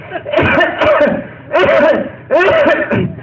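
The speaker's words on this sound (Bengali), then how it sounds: "কাশি নেন, কাশি নেন, ভালো করে কাশি নেন" A man coughing on request during a comic interview: three loud, close bursts of harsh, rasping coughs separated by short pauses, with no talk over them.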